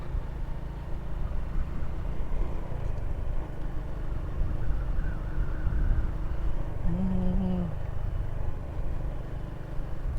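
Heavy equipment trucks rumble past on a road in a low, continuous engine drone with a small motorcycle idling close by, and a higher tone shifts briefly midway.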